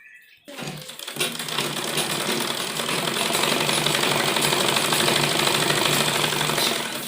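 After a brief pause, a sewing machine runs steadily, stitching the seams of a ladies' churidar pajami in one continuous, loud mechanical whir with a rapid needle rhythm.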